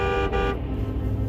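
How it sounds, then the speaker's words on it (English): A passing tractor trailer sounds a loud, brassy air horn blast for about half a second, then its heavy engine and road rumble carry on close by as it drives past. "they're blowing the horns as they drive by us"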